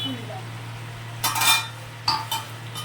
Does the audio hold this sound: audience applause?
no